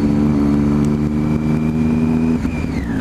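A Triumph Street Triple engine runs close and loud at a Triumph rally, holding a steady rev with a brief rise and drop near the end, no talk over it.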